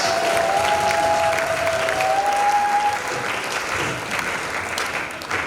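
Audience applause fills a 60th birthday celebration for Archbishop Kutino Fernando, a loud, dense, steady clapping that runs the whole stretch with a faint whistle-like tone early on.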